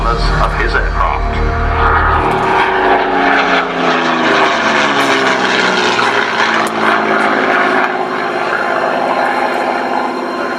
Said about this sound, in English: Last pass from the Hurricane.